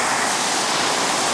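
A waterfall roars loudly and steadily as a dense, even rush of falling water, heard close with no voices over it.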